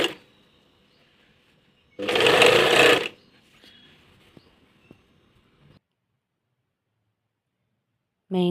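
A sewing machine runs double stitches on chudidar dress fabric in one loud, close burst of about a second of rapid stitching, with near silence before and after.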